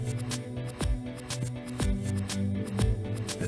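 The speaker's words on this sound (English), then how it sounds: "proceed to make the second longitudinal cut back to the start point" A Ripley Miller ACS-2 slitter makes a lengthwise cut along armoured cable, giving a close run of repeated metallic clicks and snaps with a few sharper thuds, steady and moderately loud with no talking.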